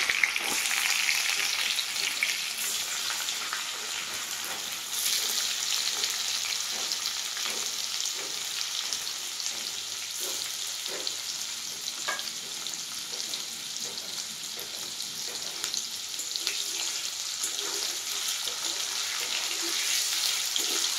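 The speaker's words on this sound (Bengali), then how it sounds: "তেল গরম হয়ে গেছে, এবারে পনিরটা ছাড়ব। হালকা হালকা লাল লাল করে ভাজবো।" Paneer frying in hot oil until lightly browned, a steady close sizzle with occasional stirring clicks, without talking.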